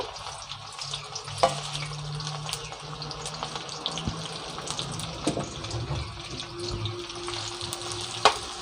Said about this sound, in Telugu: ఉడకాలి బాగా కాసేపు ఉడకనిద్దాం